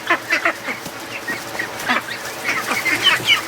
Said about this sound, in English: Oh, there's a nice Dalmatian duck.